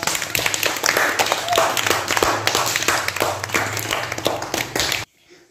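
A group of people clapping together in a room, a dense, lively burst of applause that continues for about five seconds and then stops abruptly.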